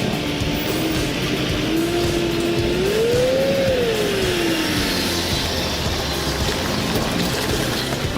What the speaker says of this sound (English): a lumber truck is going down the hill